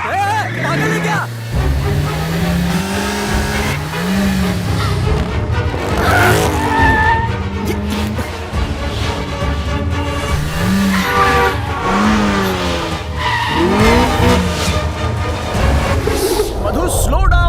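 A car driven fast in a film chase scene: a loud, continuous engine roar with tires squealing and skidding throughout, while people talk and shout over it.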